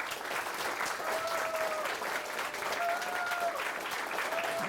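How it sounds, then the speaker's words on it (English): An audience claps steadily at a university game jam's closing talk, a continuous dense patter of applause lasting a few seconds with faint voices and whistles mixed in. "so if you can give them a clap"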